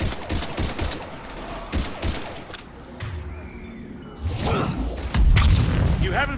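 Bursts of rapid gunfire and heavy thuds fill a Mass Effect 3 battle against husks, arriving in clustered volleys with short pauses between them, while voices shout over the combat.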